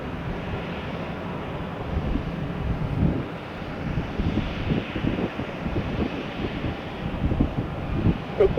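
A Southwest Boeing 737-700 jet, heard from an airport spotting spot, rumbles as a steady broadband engine roar mixed with wind buffeting the microphone, holding a fairly even level throughout with no talking.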